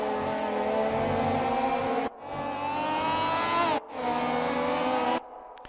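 Formula race cars in a racing video game, a McLaren MP4/4 on a dry track, with engines screaming through rising and falling gear changes, two sharp breaks between shifts, and a quick cut near the end.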